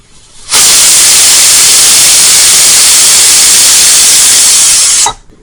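A loud, continuous rush of steam hissing from a pressure cooker cooking potato and pea curry for several seconds, starting and stopping abruptly, with no voices.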